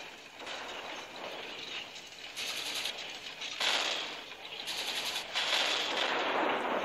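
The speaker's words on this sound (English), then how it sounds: "click this to fire bullets" Rapid gunfire from an AR shooting video game, a dense continuous stream of shots with brighter surges, loud and steady throughout with no talk.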